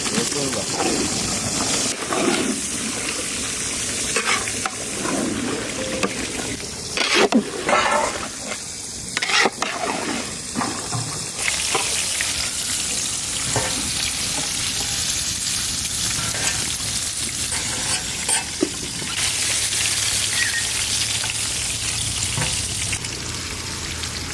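Ginger and garlic paste frying in a pan, a steady broadband sizzle with intermittent stirring scrapes, and a voice talking at times over the cooking noise.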